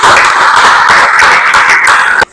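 A classroom of students claps together in a dense, loud burst of applause lasting about two seconds, then it cuts off abruptly.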